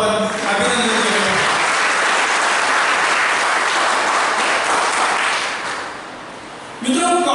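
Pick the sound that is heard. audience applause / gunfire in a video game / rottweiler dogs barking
audience applause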